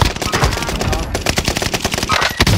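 Rapid automatic gunfire from a Call of Duty Warzone match on Rebirth Island, loud and close, with dense bursts of shots rattling continuously across the short stretch.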